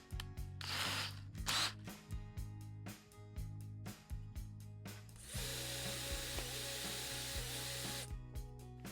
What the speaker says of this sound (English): I'm going to countersink a little bit of a hole just so that sinker lives up in there